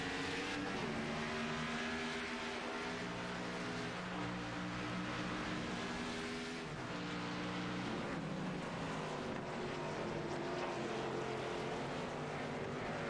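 Race cars in a sim racing league event at the Glen roar steadily around the track, engines droning loud and continuous with shifting pitch as cars pass and change gear. No voices are heard.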